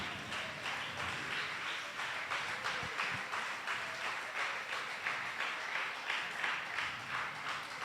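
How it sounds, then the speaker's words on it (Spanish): Congregation applauding during a church service, steady rhythmic clapping at moderate distance that continues evenly throughout without speech. "Dele un aplauso al Señor."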